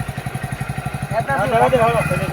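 A motorcycle engine running close by with a low, even chugging pulse throughout, while someone talks over it partway through.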